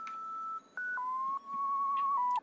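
A thin, buzzy synth lead traces a simple stepwise melody of held notes over a faint, hissy pad, fairly quiet and alone.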